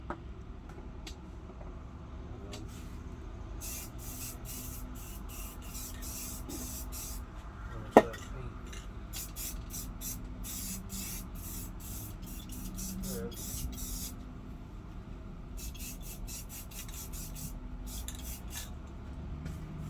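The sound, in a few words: spray painting car wheels and lug nuts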